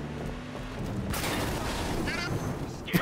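Gunfire in the Batman: Arkham Knight video game sounds as a dense burst of rapid shots and booms, fairly loud and continuous over game noise, with a sharp crack near the end.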